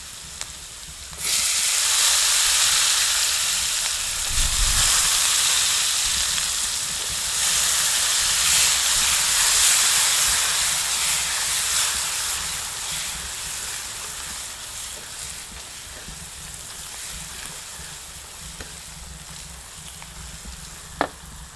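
Green chillies and onion sizzle and fry in hot oil in a pan for a semolina and chickpea snack, a loud steady hiss with occasional stirring, fading slightly toward the end.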